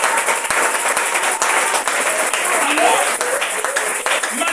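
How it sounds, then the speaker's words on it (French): A church congregation claps and applauds during a sermon, a dense, sustained wash of clapping that fills the entire stretch while a voice speaks over it. "On applaudit pour vous."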